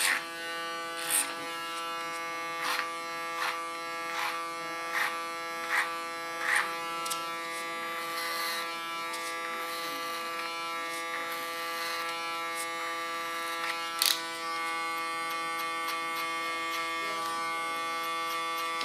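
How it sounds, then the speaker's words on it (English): An electric hair clipper buzzes steadily up close with a bright, constant hum while cutting a woman's hair, with a series of soft rhythmic snips and strokes breaking through the drone. "Can use my clipper as a comb,"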